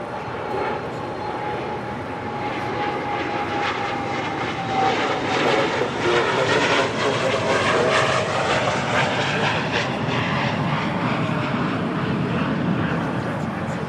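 A Boeing 787-8 Dreamliner arriving from Mexico City rumbles steadily overhead, its broad engine roar swelling and lingering in the distance with a faint whine, while people talk quietly in the background.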